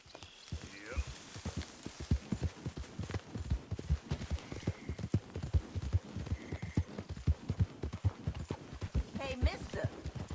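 Horse hooves clip-clop in a quick, steady rhythm throughout in the video game Red Dead Redemption 2, with a voice briefly speaking over the hoofbeats.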